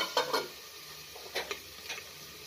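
Spiced vegetables stirred in a pan with salt, turmeric, coriander and chilli powder: a few soft scraping strokes of a spoon, with a faint sizzle beneath, clustered at the start and again near the middle and end.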